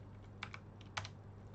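Short burst of computer keyboard typing, a few quick crisp keystrokes as for a Ctrl V paste, close and fairly quiet over a low steady hum.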